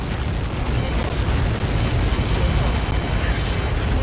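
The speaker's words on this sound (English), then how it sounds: "How many got caught in that explosion?" A missile explosion on impact in the Ace Combat 7 flight combat game, heard as a loud, dense, sustained roaring rumble with heavy low end that fills the whole moment without clear breaks.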